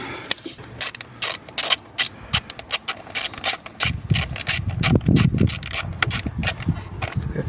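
A part being tightened by hand on an Alfa Romeo Giulietta 1.4 TJet during LPG repair work, a close series of rhythmic scraping, ratcheting strokes, growing denser and rougher in the latter half.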